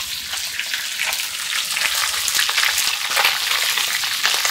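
Local tilapia fish sizzles steadily in hot oil in a home kitchen, a dense, loud crackling hiss with scattered pops that runs continuously, with no talking.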